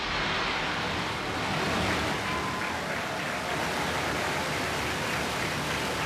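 SpaceX Falcon rocket liftoff carrying the CRS-29 Cargo Dragon resupply craft, a continuous broadband roar like heavy rushing surf that stays loud and steady throughout, with no voices.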